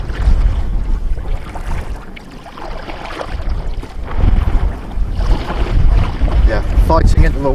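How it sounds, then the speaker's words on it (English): Strong gusting wind buffets the microphone while kayaking in the Walney Channel, a continuous roaring rush with water sloshing beneath and brief faint voices. "Fighting into the wind now."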